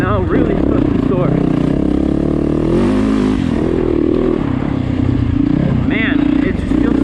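A Yamaha YZ450FX dirt bike engine drones loudly and steadily on trail throttle, with a couple of brief revving rises, while a rider talks over it throughout.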